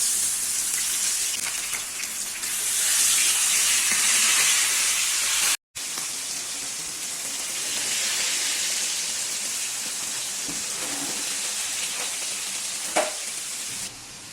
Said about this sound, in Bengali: মাত্র একবার এক এক কড়াই আর কি ভাজলাম